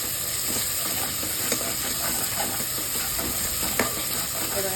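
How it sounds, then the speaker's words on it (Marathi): Mutton masala with salt added, stirred and mixed in a pan, a dense continuous sizzle with repeated scraping strokes of the spoon, loud and close. "आता दोन चमचे मीठ घालायचं आणि मिक्स करायचं सगळं"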